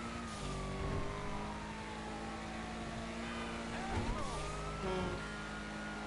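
A car engine in GTA Online drones steadily and revs up and down, with rising and falling tones and a muffled, game-like quality, no speech.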